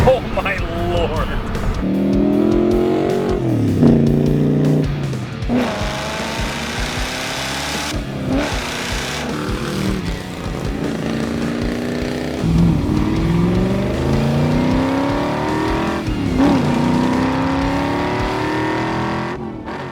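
A 1971 Plymouth Duster engine revs loudly and continuously, rising and falling in long sweeps with a throaty rumble, heard close with voices talking over it.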